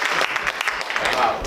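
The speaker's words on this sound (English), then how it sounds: "If they could all just stand for a minute, we give them an applause." An audience at a town candidates forum applauds the election candidates, producing steady, dense clapping across the room that continues throughout, with voices murmuring beneath it.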